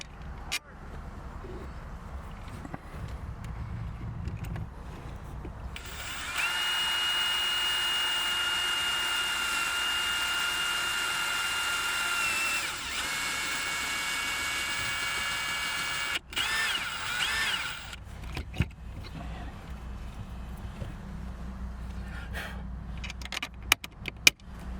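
A power drill bores a hole for a dash mount inside a Toyota 4Runner, running as a steady, loud whine for about ten seconds, with faint handling clatter before and after and no talk.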